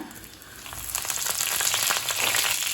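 Oil sizzles and crackles steadily in a pan, growing a little louder as fennel seeds and curry leaves fry.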